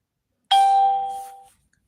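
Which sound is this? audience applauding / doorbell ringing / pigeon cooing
doorbell ringing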